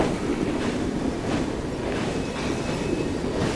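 A steam-era train running in Assassin's Creed Syndicate, a loud steady rumble of wheels on rails with a faint rhythmic clatter and a thin metallic whine over it.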